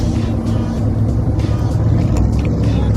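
A clean Corvette drives by on the road with a steady engine and tyre rush that stays loud for a few seconds, and a voice is briefly audible.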